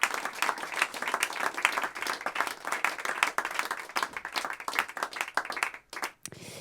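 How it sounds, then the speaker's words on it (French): Audience applause for musicians at a small live concert, a moderate crowd clapping with distinct individual hand claps, steady then tapering off and stopping near the end. "s'il vous plaît, applaudissez Mathilde et Eric."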